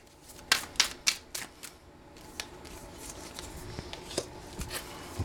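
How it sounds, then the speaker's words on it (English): A deck of tarot-style playing cards being shuffled by hand, a run of sharp riffling bursts at first, then softer intermittent card flicks and slides, close and fairly quiet, with no talking. "the cards are just trying to fly out"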